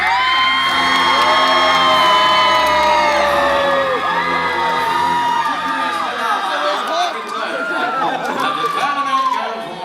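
A large crowd at a Medieval Times jousting show cheers and whoops loudly and continuously, with many voices shouting together in a sustained roar.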